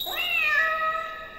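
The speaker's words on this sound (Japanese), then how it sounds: "猫。" House cat giving a single clear meow that rises and trails off over about a second, close and alone.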